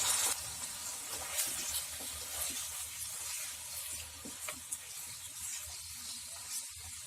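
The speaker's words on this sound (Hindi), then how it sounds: "तेल गरम हो चुका है, हम इसमें आधा किलो गोश्त डाल देते हैं। फ्लेम को हाई पे रख के इसे फ्राई कर लें।" Half a kilo of mutton fries in hot oil over a high flame, giving a continuous quiet sizzle and hiss with occasional stirring scrapes, heard close and fairly soft.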